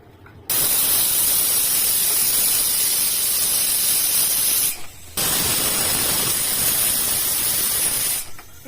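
A pressure cooker vents steam while cooking a dill-leaf (sabsige soppu) pulao, a loud, steady hiss that holds for several seconds, cuts off briefly, then resumes just as strongly.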